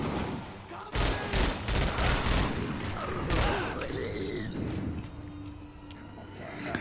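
Assault rifle fire in the shooter game The Darkness 2, with loud rapid bursts of automatic shots up front that give way to quieter mechanical clatter and ambient game noise.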